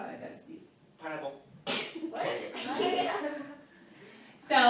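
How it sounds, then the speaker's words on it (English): A person sneezes in the middle of a seventh-grade math lesson, a sharp burst standing out between stretches of a teacher's talking, followed by more speech. "Hold on, I gotta sneeze."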